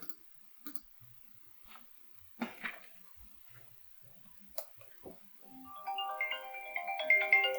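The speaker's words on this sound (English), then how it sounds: "All right, my phone is ringing." Phone ringtone ringing, a bright melodic electronic tune that starts after several scattered soft clicks and taps and grows louder over the last couple of seconds.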